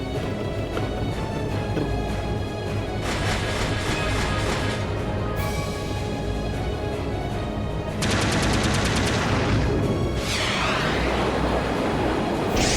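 Main cannon and secondary armaments fire from a warship in the video game Trails of Cold Steel II: a loud, dense, continuous barrage of blasts and rattling shots over a droning score, growing heavier partway through.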